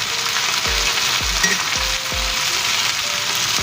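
Potatoes frying in melted butter in a pan, a steady close sizzle with several sharp clatters as the slices are stirred and turned, no talking.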